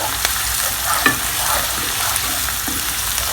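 Peppers and a tablespoon of butter sauté in a pan, sizzling loudly and continuously up close, with a few light scrapes and clicks from stirring and no speech.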